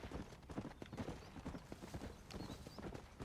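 Hooves of a horse clip-clop at a steady trotting rhythm in the Red Dead Redemption video game, moderately near and fairly quiet, with a light wash of ambient background.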